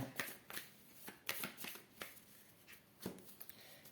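Tarot cards shuffle softly before a reading, with scattered papery flicks and taps at an uneven pace, close but quiet, with no one speaking.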